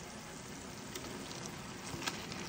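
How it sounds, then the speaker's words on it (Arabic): Meat frying and searing in a pot with tomato sauce and tomato juice: a steady, dense sizzle and crackle throughout, fairly close and even, with a few slightly sharper pops. "هنسبك اللحمه ونسيبها تستوي شويه"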